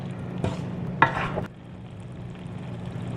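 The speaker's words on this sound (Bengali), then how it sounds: "ডিমগুলোকে মশলার সাথে ভালো করে কষিয়ে নিয়েছি" Fried eggs stir-fried in spice masala over medium heat, with a soft sizzle and two short bursts of stirring scrapes in the pan before the frying settles to a low, steady hiss.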